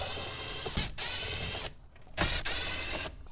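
A tool backs out Phillips screws from the radio of a Nissan Versa, close mechanical whirring in several bursts with brief pauses between them.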